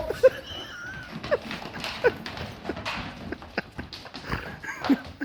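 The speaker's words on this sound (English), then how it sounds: "Yeah, Pete, the sheep are in the barn." Hooves of sheep shuffle and knock on a hard barn floor with scattered thumps and faint bleats, the animals milling about nearby indoors in the dark.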